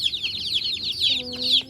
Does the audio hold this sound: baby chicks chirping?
yes